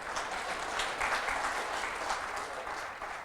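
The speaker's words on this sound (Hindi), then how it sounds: "ताली बजा सकते हैं।" An audience claps steadily for a few seconds, a dense, moderately distant burst of applause with no talk over it.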